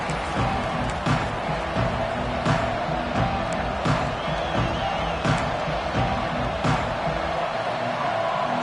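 A stadium crowd at a football game gives a dense, steady murmur with scattered shouts and sharp bangs, moderately loud throughout and without clear talk over it.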